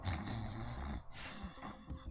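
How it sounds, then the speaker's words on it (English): Muffled snoring from one or two people behind a closed door, a low continuous rumbling drone with soft breathy swells that drops briefly midway before resuming. "You can hear out maybe one or two people snoring inside."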